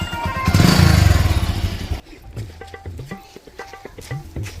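A motorcycle ridden in a village comedy skit, its engine loud and close for about two seconds before cutting away to quieter background noise and scattered voices.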